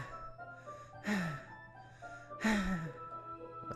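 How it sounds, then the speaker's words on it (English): Two sharp gasping inhales drawn through the teeth, each a short hissing breath followed by a slight sigh, heard over a quiet music bed in the horror visual novel Doki Doki Literature Club. "it sounds like breathing. A sharp inhale, like someone is sucking the air through their teeth"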